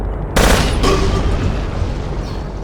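A grenade explosion in the war game Battlefield Yugoslavia, one loud sudden blast with a heavy low rumble that lingers and slowly fades over the following seconds.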